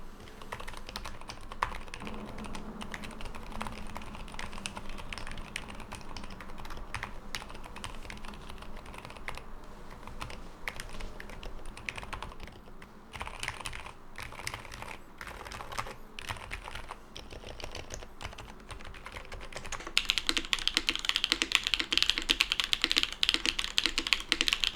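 Continuous typing on a Neo75 custom mechanical keyboard with a copper case, rapid close-up key clacks in a steady stream that grows noticeably louder and brighter near the end.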